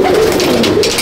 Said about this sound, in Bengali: কলকাতার বহুত পুরনো ওস্তাদের পায়রা